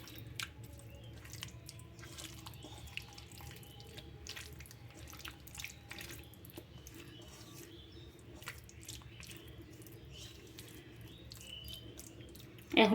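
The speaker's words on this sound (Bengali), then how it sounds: "এইভাবে হাতে সুন্দর করে মেখে নিতে হবে।" Fish being mixed and mashed by hand, soft wet squishes and faint drips at close range, quiet and steady, ending in a sudden louder burst.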